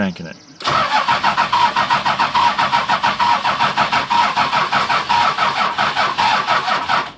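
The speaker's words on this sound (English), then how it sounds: "It's gonna take a while to start it. Keep cranking it." A Toyota Land Cruiser HJ60 diesel engine cranks loud and close, the starter turning over in a steady, rapid, rhythmic chug for several seconds.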